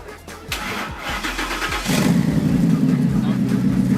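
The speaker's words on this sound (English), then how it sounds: "The special exhaust, because the exhaust is." A Ford car with a special aftermarket exhaust cranks over with a few quick turns, then catches and settles into a loud, deep, rumbling idle close by.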